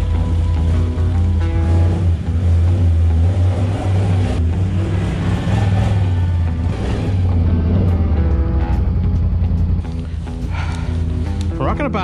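Can-Am Outlander 850 XT ATV engine droning loudly and continuously while riding, a strong low rumble with wind and terrain noise mixed in throughout.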